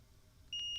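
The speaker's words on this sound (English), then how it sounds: "A little beep, so I'm going to touch the capacitor here." A multimeter gives a short continuity beep as its probes touch a capacitor on a Game Boy circuit board. The high electronic tone starts suddenly over a faint background and holds steadily to the end.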